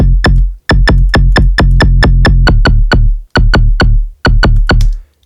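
Minimal tearout bass synth with heavy, overboard pitch automation, much of the low end cut: loud, punchy stabs in a rhythmic stuttering pattern, each with a sharp clicky attack and a fast downward pitch sweep, pausing briefly between phrases.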